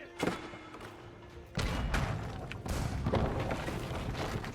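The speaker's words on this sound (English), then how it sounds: "So our cannons start blasting again." Cannons blast in the video game Age of Empires during a naval island invasion, a series of heavy booms and thuds that start sharply and then roll on into a dense, continuous barrage, loud and close.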